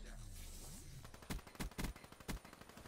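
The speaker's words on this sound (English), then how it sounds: "that guy's shooting at me" First-person shooter video game gunfire with SMGs, heard as several sharp, separate bursts and shots that follow a quieter stretch of game ambience.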